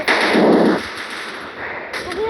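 Automatic gunfire in a mobile shooter game, a dense loud burst of rapid shots followed by quieter game effects and sounds trailing after.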